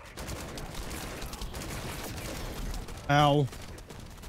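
Rapid gunfire from several shooters in The First Descendant, a dense crackling barrage running throughout, with a player's voice briefly cutting in near the end.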